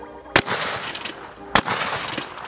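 Two loud, sharp 7.62 rifle shots fired at a brick wall, spaced about a second apart, each with a short echoing tail.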